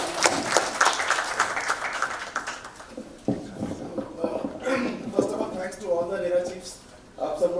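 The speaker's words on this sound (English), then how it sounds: "Palash, a huge round of applause" An audience at a real estate podium discussion claps, strongest in the first three seconds before thinning out, while a person talks over the fading clapping.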